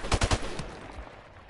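Three rapid gunshots crack out close together in a Search and Destroy video game match, followed by a short, fading echo.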